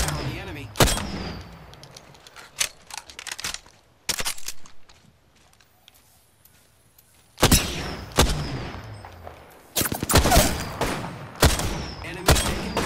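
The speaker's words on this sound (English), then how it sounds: "Opening fire on the enemy." Gunfire in Apex Legends: loud bursts of shots come in clusters, a quiet stretch in the middle, then heavy rapid firing returns near the end.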